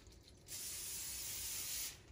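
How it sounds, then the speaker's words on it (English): A single continuous hiss of cooking spray sprayed onto aluminum foil for lasagna, lasting over a second, close by, with quiet before and after. "I like to spray the top"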